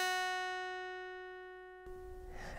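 A single open guitar string plucked with an upward stroke rings out as a clear, sustained tone that slowly decays. After about two seconds it is cut short, leaving a faint rustle of handling noise.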